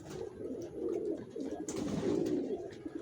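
Racing pigeons of original racer stock cooing softly and steadily, a low throaty murmur close by and alone, with no talk.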